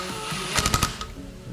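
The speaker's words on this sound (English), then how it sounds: "I'm just going to use the drill" A short, rapid burst of power drill whirring, close by, snugging top-end engine bolts on a Yamaha YFZ450R, with several quick pulses of the motor, then it stops.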